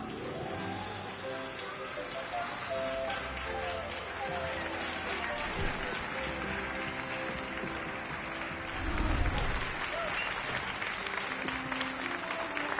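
Applause and clapping from a crowd in the Hogwarts Legacy video game, a steady wash of many hands under game music, swelling louder near the end.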